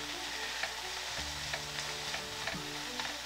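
Cellophane noodles for jajangmyeon sizzle steadily in a hot pan while tongs stir them, with faint scrapes and clicks over a constant frying hiss.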